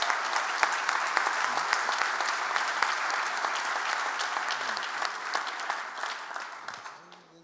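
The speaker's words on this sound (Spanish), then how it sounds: "quisiera póstumamente darle el agradecimiento y un aplauso a él por todo lo que hizo." Sustained audience applause at an analysis panel for a kiwi industry event, dense and steady throughout, slowly tapering toward the end, with a few faint voices underneath.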